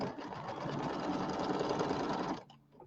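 A home embroidery machine stitches a design in black thread on fabric, a steady loud rapid mechanical whirring chatter that runs continuously and then drops away abruptly near the end, with no talking.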